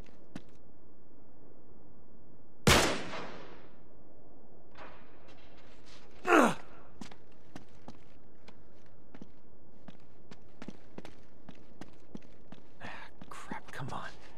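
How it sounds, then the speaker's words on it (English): Two sharp, loud gunshots ring out in Uncharted 3 as a lock is shot open, each a sudden broadband crack with a short tail. Quieter footsteps and small taps continue afterward. "Back up, I'll shoot the lock."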